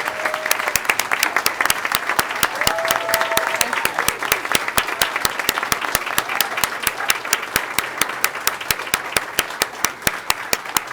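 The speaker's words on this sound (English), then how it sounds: "if you join me one more time in applauding all you fan clubs out there" An audience at a county school board work session applauds the fan clubs, producing loud, sustained clapping with a few sharp individual claps standing out and a faint voice or whistle near the start.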